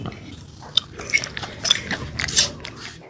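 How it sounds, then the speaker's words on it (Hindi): Someone eating fried rice, chewing and biting close up with moist crunches and irregular smacking bites, loud and near. "तो अभी मैं खा रहा हूँ चावल फ्राई"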